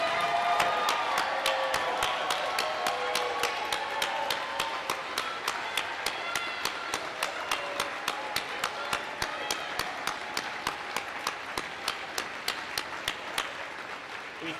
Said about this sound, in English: I want all the students that received awards to please stand up tonight so we can give you all a round of applause